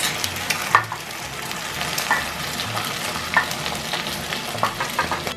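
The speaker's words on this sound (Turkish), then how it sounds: "Ve şimdi yumurtamı böyle hafif çırparak fazla değil patatesimin üzerine gezdiriyorum." Lightly beaten egg is poured over potatoes frying in a pan, raising a steady, close sizzle and crackle with occasional stirring scrapes.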